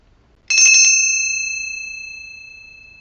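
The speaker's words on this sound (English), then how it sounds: "I am going to ring my bell to cleanse my energy in here" A small bell is struck once with a quick rattling strike, then rings out in a clear, sustained metallic tone that slowly decays over a few seconds in a quiet room.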